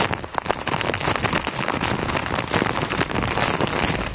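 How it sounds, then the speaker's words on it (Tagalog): Dense, steady downpour from Typhoon Aghon in Surigao City roaring without pause, a loud wash of heavy rain with scattered sharper patters throughout. "naramdaman ang bagyong Aghon dito sa Surigao City nang biglang lumakas ang pagbuhos ng ulan"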